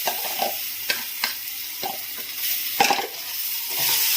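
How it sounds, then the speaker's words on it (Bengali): Lentil batter dropped into hot oil with asafoetida in a kadai, stirred with a spatula: a soft sizzle and frying hiss runs throughout, punctuated by several scraping stir strokes, rising into a denser sizzle near the end, with no voices. "হিংকে একটু নাড়াচাড়া করে এই যে ডালের ব্যাটারটা এর মধ্যে দিয়ে দিচ্ছি।"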